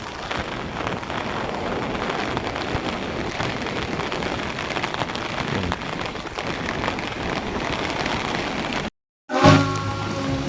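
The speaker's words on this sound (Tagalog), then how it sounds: "walang tigil lang ulan" Steady, heavy typhoon rain pours down in a constant hiss, briefly cutting out near the end before resuming alongside a low rumbling tone.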